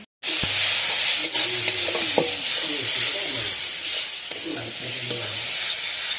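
Grated coconut frying in a pan, a steady close sizzle with occasional stirring scrapes, loud and continuous after a brief silent start.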